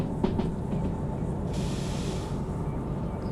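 Freight train in the Derail Valley simulator slowing under its brakes, a steady loud rumble of wheels on rails with a hissing burst of air partway through and faint clicks.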